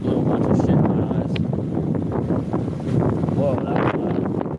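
A gust of wind buffets the microphone outdoors on a stormy day, a rough rumbling roar that swells and eases over a few seconds, with brief indistinct voice-like sounds mixed in.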